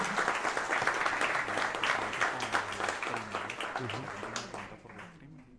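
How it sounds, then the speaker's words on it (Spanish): Audience applause at a conference event, a dense wash of many hands clapping that holds steady and then fades toward the end, with voices mixed in throughout. "yo creo que nos merecemos un aplauso todos"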